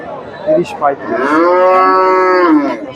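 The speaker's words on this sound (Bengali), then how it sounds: "বিশাল সাইজের একটা গাভী" A Friesian dairy cow at the Bogura cattle market lets out a long, loud moo close by, preceded by a couple of short grunts amid background market bustle.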